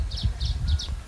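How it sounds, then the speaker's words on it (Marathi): Sparrows chirp near a nest in a tree, with short, bright tweets repeating at a steady quick rhythm over a low, rumbling outdoor background. "इथं चिमण्यांचं किलबिलाट सुरू आहे"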